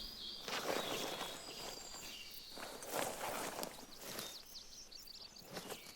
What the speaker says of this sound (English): we're hearing footsteps